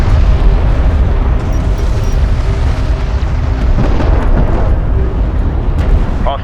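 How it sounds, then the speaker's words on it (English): Enemy railguns in Homeworld: Deserts of Kharak fire in a dense, loud battle, a continuous roar of impacts and explosions, with a few sharp cracks punching through and radio-style unit voices in the mix. "Enemy railgun firing on friendly."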